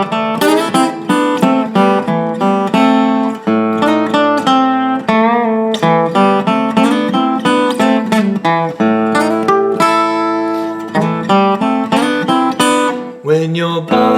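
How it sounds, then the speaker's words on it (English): Acoustic guitar plays the intro, alternating strummed chord phrases with single-note bass runs in a steady flowing rhythm, close and loud with no voices. "If I play the bass phrases in between the acoustic guitar phrases,"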